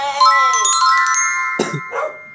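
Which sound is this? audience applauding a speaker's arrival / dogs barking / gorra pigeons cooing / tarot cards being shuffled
dogs barking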